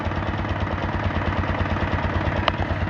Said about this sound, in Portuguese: Parte do carburador trabalhando.